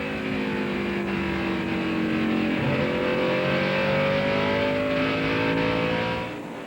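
Onboard the Napa Chevrolet race car in a 2000 NASCAR Busch Series race, the engine drones loud and close, its pitch climbing through an upshift before easing off near the end.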